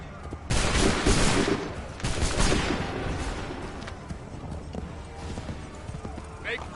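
A musket volley fires in the video game Assassin's Creed 3 as a loud, crackling burst of shots. It is followed by a rolling, sustained rumble of battle noise, with shouted commands in the mix.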